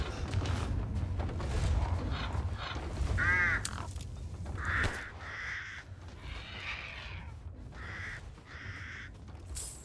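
A crow caws a few times in Resident Evil Village, with curved harsh calls standing out over a dense game backdrop of low rumble, scattered noises and later chirpy sounds.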